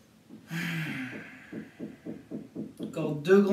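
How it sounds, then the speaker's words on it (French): A long, steady breath drawn during a lower-body stretching posture, close and breathy, with a soft rhythmic pulsing underneath; a voice begins speaking near the end. "Encore 2 grandes inspires, 2 grandes expires."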